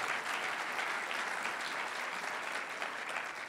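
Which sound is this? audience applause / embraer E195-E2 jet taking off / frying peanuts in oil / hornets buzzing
audience applause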